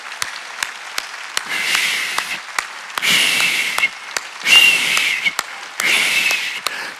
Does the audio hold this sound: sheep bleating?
no